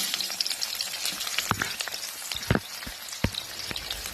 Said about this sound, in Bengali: এবার এই তেলের মধ্যে আমি পেঁয়াজটা দিয়ে দেব।